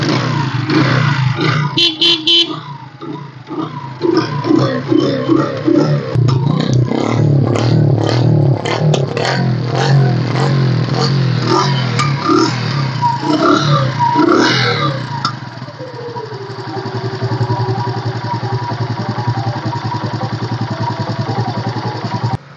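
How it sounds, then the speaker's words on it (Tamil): A 2007 Yamaha Crux motorcycle engine cranks with clattering bursts, catches and settles into a steady, close idle that runs alone for the rest of the clip. "யமாகா கிரக்ஸ் நல்லா இருக்குது வண்டி. வாங்க ஸ்டார்ட் பண்ணி காமிக்கிறேன்."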